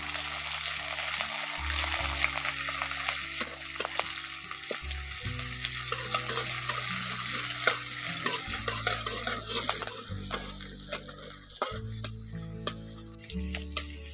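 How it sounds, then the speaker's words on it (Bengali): Chopped onions fry in oil over tempered spices in a pan, a steady sizzle running under repeated stirring scrapes and occasional clinks of the utensil, with no one speaking. "পেঁয়াজটাকে একটু ভালো করে ভেজে নেব"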